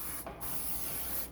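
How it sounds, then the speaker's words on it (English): Non-stick cooking spray hisses from an aerosol can into a baking pan for fudge brownies, one steady close spray lasting over a second with a brief break near the start. "So, we've sprayed it with no stick spray."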